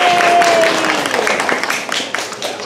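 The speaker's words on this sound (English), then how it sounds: "let's give the audience a big round of applause for being here" Audience applause for young actors at the close of a two-week summer theater intensive, a dense wash of clapping from a crowd that fades slightly over a few seconds, with a brief tone and scattered voices underneath.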